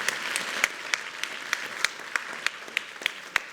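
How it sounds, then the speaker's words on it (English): An audience claps at a heart health forum, light and fairly sparse, with distinct individual claps standing out at a regular pace over a soft background of applause. "So give him a round of applause,"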